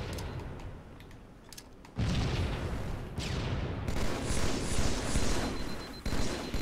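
Gunfire in the Halo 2 video game rattles in dense, continuous bursts, loud and close, with sharp shots stacking into rapid volleys and no talking.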